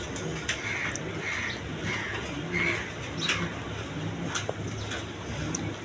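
Pigeons, including an Indian Bombay breed, coo softly in a loft, with several low murmuring calls and a few brief sharper chirps over a steady background hum.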